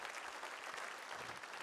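A congregation or audience breaks into applause, a fairly faint, even patter of many hands clapping throughout the brief moment.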